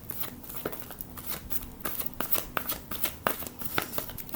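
Tarot cards are shuffled by hand close up, with rapid crisp riffles and soft slaps in an uneven rhythm that continue throughout.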